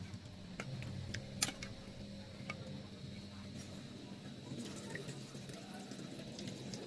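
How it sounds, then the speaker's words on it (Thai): Boiled water from a Thai curry preparation is poured through a strainer into a pot: a soft, continuous trickling and splashing with faint clinks, quiet and steady throughout. "ส่วนน้ำต้มหัวกระทูนี่ค่ะ เราก็จะใส่ลงไปเลยค่ะ กรองซะหน่อยนะคะ"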